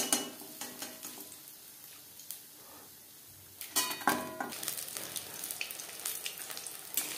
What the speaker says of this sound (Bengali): প্রত্যেক ব্যাচের পাকোড়া বা বড়া একইভাবে ভেজে নেব